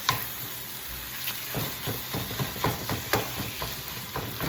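Ground meat browns in a pan with a steady close-up sizzle, broken by rhythmic scraping and tapping from a utensil stirring it.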